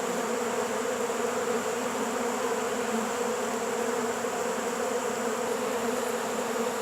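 Honey bees swarm over honey supers in a yard, a dense, steady buzzing drone of many wings that holds close and loud throughout without any talk.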